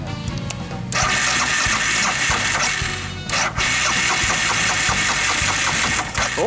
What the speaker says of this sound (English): Sounds like a bike.